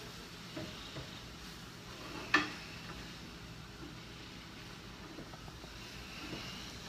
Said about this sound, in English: Now we're going to deglaze the pan and get rid of all the drippings that have stuck to the bottom.